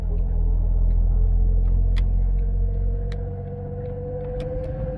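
Suzuki Cappuccino small sports car driving with a noisy transmission, a steady low engine drone and road rumble with a rising whine running through it, easing slightly toward the end, no talking.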